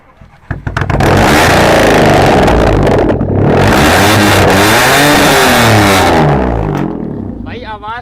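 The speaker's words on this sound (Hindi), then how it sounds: "लो भाई, आवाज भी सुनाते हैं इस गाड़ी की आपको," A stage 2 tuned car with an HKS straight-pipe exhaust, parked on a used-car sale lot, fires into a loud, raspy rev close by. It holds a roaring, rising and falling engine note for several seconds before a voice briefly cuts in.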